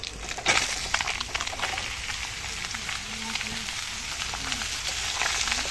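Chopped bottle gourd and green chilli hit a frying pan with puti fish, giving a close, crackling sizzle with scattered pops that stays dense and steady throughout, no talk over it.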